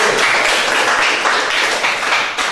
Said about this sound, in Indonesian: Sekali lagi berikan tepuk tangan untuk kelompok 1.